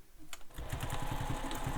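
A sewing machine stitches backpack side panels together, starting with a few clicks before settling into a quick, steady mechanical patter heard close and fairly quiet.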